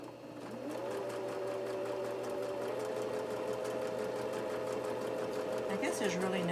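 A sewing machine runs steadily at close range, stitching a crazy quilt pincushion with an even whirring, rhythmic needle chatter, then slows near the end.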